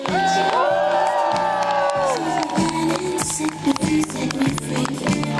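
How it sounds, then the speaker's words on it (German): A loud crowd cheers and whoops continuously at an outdoor street-theatre event, with shouts and children's voices layered over a dense, steady roar that holds at close range throughout. "Wir machen die Jubel."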